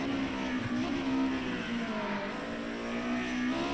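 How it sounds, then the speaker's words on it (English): A four-cylinder race car engine screams at high revs in a racing video game, a steady, sustained drone that rises slightly and holds near and loud throughout, with no speech. "Is a 4-cylinder screaming, as you can hear it now."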